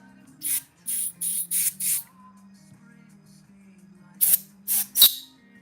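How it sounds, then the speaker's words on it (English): Short blasts of compressed air blowing a clog out of an airbrush, about five quick hissing bursts, then a pause with a low hum, then three more, close and sharp. "Very well could be that any clog that was developing already got blown out. Take a little compressed air here"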